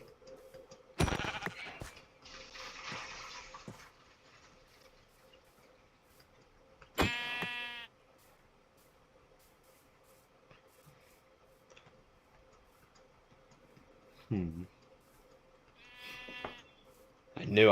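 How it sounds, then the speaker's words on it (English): Sheep in the game Minecraft let out a few separate bleats spread across a quiet stretch, each short and wavering, mixed with brief game sound effects over a steady low hum. "Some sheep up here."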